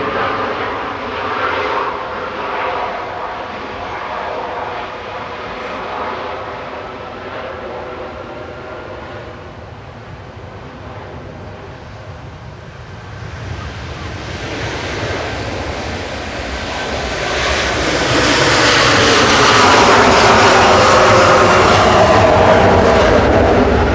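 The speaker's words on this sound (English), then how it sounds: "Hainan spooling" A Hainan Airlines jet at Manchester Airport spools up its engines for takeoff, a steady broad roar that swells louder over the final seconds as the turbines wind up, with no voices present.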